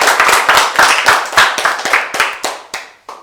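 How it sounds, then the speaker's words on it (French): A small group claps together to welcome a radio team in a studio, a few seconds of brisk close hand clapping that thins into separate claps and stops. "Ok, on peut tous s'applaudir."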